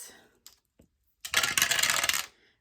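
A six-sided die rattles and tumbles across a hard surface in a burst of clattering lasting about a second, preceded by a few faint clicks, with no talking.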